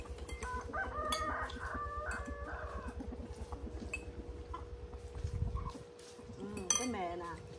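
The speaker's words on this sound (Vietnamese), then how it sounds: "Mấy con gà nè. Thảy đồ ăn ra cái nó bu lại liền." Chickens and a rooster at a Vietnamese grandmother's farmhouse cluck and crow as food is tossed to them, with a long rooster crow early on and steady clucking close by, plus brief clinks and people talking in the background.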